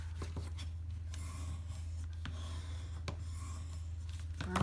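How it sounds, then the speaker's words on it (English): Adhesive tape is rubbed down onto a paper box, giving close, quiet scraping strokes that repeat at irregular intervals. "Burnish that a little bit."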